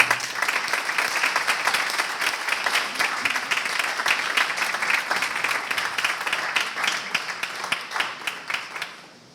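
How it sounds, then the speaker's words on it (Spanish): An audience at an ethics talk gives sustained applause to welcome a speaker, dense clapping that holds steady before thinning into a few scattered claps at the end. "le damos un gran aplauso entonces al doctor Luna."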